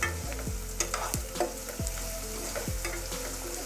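Onions with rock salt sizzle in a pan, close and crackling, as a spoon stirs and scrapes the pan in regular strokes about every half second.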